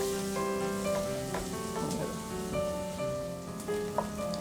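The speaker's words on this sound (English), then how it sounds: "To this we'll add some onions and we'll saute this on a medium flame for 2 to 3 minutes" Onions sautéing in a pan over a medium flame, a steady soft sizzle and crackle running throughout with faint tonal hum in the background.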